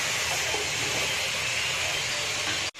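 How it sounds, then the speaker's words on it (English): Sliced onion deep-frying into crisp brown barista for mutton biryani, a steady, close, dense sizzle and hiss of hot oil that holds unbroken for about three seconds before cutting off abruptly. "Now we are frying this onion and making it barista."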